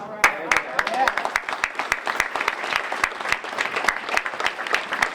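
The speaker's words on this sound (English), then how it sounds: "you're going to give yourselves a round of applause" Audience at a Black legends hall of fame celebration giving themselves a round of applause, loud close clapping with many distinct sharp claps in a steady flurry.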